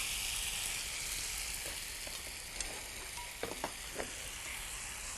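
Glass noodles stir-fried over high heat in a hot oiled pan for ginseng japchae, giving a steady sizzle with a few brief scraping stir strokes near the end, no talking.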